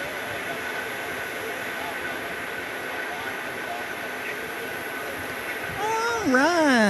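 A British Airways airliner at Phoenix Sky Harbor International Airport roars steadily in the distance, a constant broadband jet rumble that swells louder near the end as a voice speaks over it.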